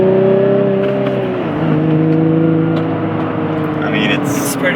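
Car engine pulling hard through a turn, a steady loud drone whose pitch dips and then climbs again as the car accelerates, heard from inside the cabin of a new car.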